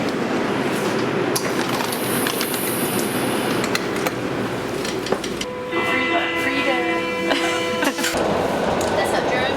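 A Berlin subway train riding along, a steady loud rumble of wheels and carriage noise with brief squeals and clatter, a tonal whine rising midway; no talk heard.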